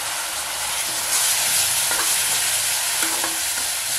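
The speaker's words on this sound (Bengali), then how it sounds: "মিডিয়াম করে এর মধ্যে খুব সামান্য একটু জল দিয়ে দিচ্ছি।" A little water splashes into a hot pan of spiced potato curry over a medium flame. It bursts into a loud, steady, close sizzle and hiss with faint scrapes of stirring, and no one speaks.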